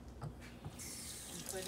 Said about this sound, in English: I'm gonna add water to it.